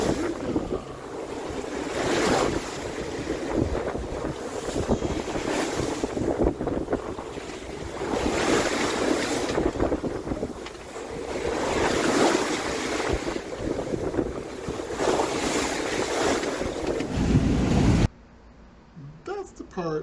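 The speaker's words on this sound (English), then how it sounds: "When my boat is heeled over that much and there's water coming up on the boat" Waves rush and splash against the hull of a heeled-over monohull sailboat amid strong wind noise, surging repeatedly and loud, ending abruptly near the close.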